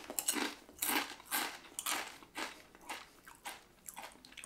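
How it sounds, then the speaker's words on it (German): Lorenz Naturals Mediterranean vegetable chips are bitten and chewed up close, a quick series of about eight sharp, dry crunches in a steady rhythm with no talking. "Knuspern gut."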